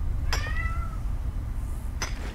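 A domestic cat meows twice, a rising drawn-out call followed later by a short one, heard up close over a steady low rumbling background.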